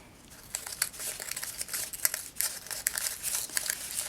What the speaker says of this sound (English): So we're going to start cutting. And you can just cut freehand.